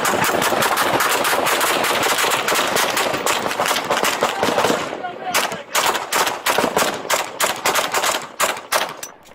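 Rapid bursts of gunfire ring out in a police shootout in Mesa, Arizona, with a suspect firing at officers from inside a truck: a sustained volley followed by separate shots in quick succession, loud and close.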